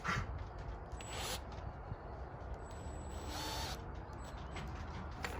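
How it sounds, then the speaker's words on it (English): An electric drill boring a hole in wood whirs at a distance in a few short bursts, faint against a steady background hum. "I'm gonna drill right here, right where my center point is at"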